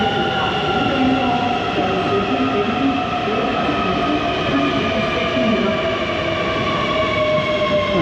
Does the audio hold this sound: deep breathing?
no